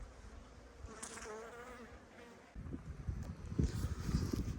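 Honeybees buzz steadily around a hive, a dense droning hum close by, with occasional soft knocks and shuffles underneath.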